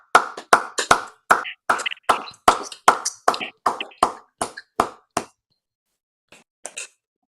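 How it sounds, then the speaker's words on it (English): Scattered claps from participants on an online call applauding harmonium students, about a dozen separate sharp claps in a loose, uneven rhythm, then a short pause and a few faint final taps. "please unmute and give all our artists a big round of applause today"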